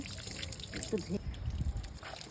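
Water trickles and splashes across a rooftop as dirt and swarming black ants are washed off; the flow is uneven and close, and a voice is heard briefly.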